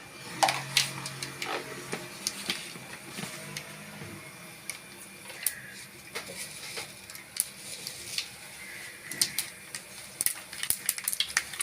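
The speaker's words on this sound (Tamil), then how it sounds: "எண்ணெய் சூடானதும் ஒரு டீஸ்பூன் கடுகு சேர்த்துக்கலாம்" Mustard seeds crackle and pop in hot oil, with scattered irregular sizzling snaps over a steady frying hiss.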